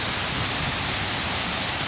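Waterfalls at a nighttime site send out a dense, steady rushing roar, loud and unbroken from start to finish, with no voices over it.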